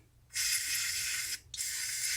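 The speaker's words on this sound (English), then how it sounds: "spray some carb spray in here" Carb spray hisses into a lawn mower's carburetor bowl in two steady bursts, the first about a second long and the second following after a brief pause, close and fairly quiet.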